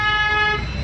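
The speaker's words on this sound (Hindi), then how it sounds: "यहाँ से हॉर्न दीजिए" A car horn sounds during a driving lesson, one sustained toot heard close over the low rumble of the vehicle.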